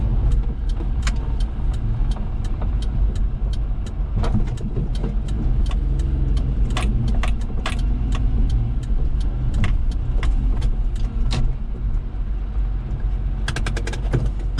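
A Daihatsu Hijet kei truck drives steadily with a continuous low engine and road rumble, cabin creaks and rattles ticking over it throughout, and no voices.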